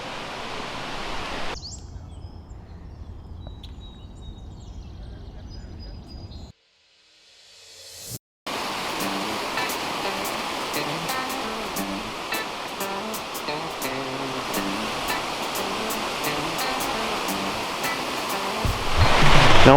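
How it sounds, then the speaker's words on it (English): Multnomah Falls in the Columbia River Gorge roars as a steady, broadband rush of falling water, close and constant, broken by a brief dropout midway before surging back louder. "Today is our first big waterfall day, and we're starting with the biggest of all the waterfalls,"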